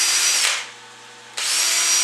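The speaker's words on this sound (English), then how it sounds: "High speed drill, polish the bores, make sure that they're nice and polished." A high-speed drill polishes the valve bores of a Honda transmission, whining loudly, easing down for about a second, then spinning back up to full speed.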